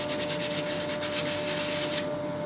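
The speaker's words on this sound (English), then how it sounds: "I'm just going to give the surfaces of these a light sand" Wooden access port components for a guitar build get a light hand sanding, a quick run of rhythmic scratchy strokes, close and steady, then a brief pause at the end.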